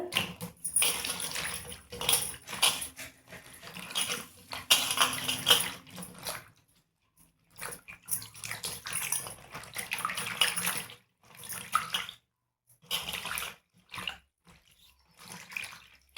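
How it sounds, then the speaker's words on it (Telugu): Okra and green chillies get washed under a running tap in bursts of splashing water. Short pauses separate the bursts as the vegetables are rinsed and handled close by. "దీంట్లోనే పచ్చిమిరపకాయలు కానీ అన్నీ నీట్గా అయితే కడుక్కుందామండి"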